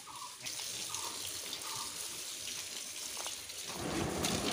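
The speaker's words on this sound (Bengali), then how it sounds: "এখানে তো জল পড়ছে কেন? এখানে একটা জায়গায় জল লিক করছে" Water leaks and falls from a spot inside a room of a house, a steady close splashing rush that swells slightly near the end, with no voices.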